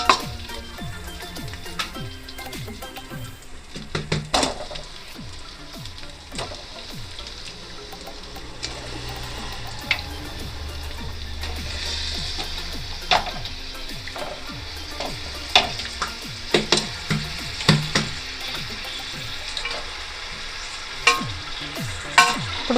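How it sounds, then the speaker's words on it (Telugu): Country chicken frying in a pan with ginger garlic paste and fried shallots gives a steady close sizzle, broken by repeated scraping and clanking of a spoon stirring it through. "ఇప్పుడు దీంట్లో నాటుకోడి వేసుకుందాం."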